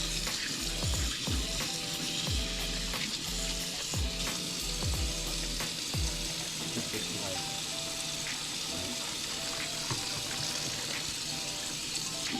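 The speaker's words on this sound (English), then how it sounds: "I'm gonna fry it up." Catfish pieces fry in a hot pan with oil, a loud, continuous crackling sizzle heard up close, punctuated early on by a few sharp stirring or shifting noises.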